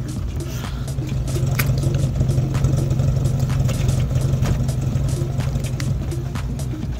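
A 1990 Toyota Kijang Super engine idles at the exhaust with a steady, loud low rumble and a faint irregular clatter running through it.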